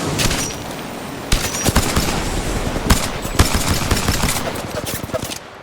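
Rapid gunfire from a video game, with bursts of automatic shots and sharp single cracks firing close and loud throughout, with speech mixed in.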